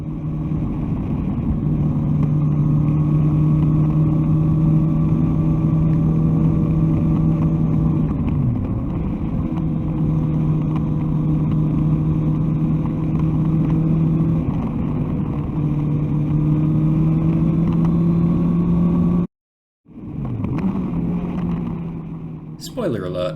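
A motorcycle engine drones loud and close as the rider accelerates through a bend on a road across the Cairngorms, its steady tone rising and dipping before a brief cutout and a renewed roar.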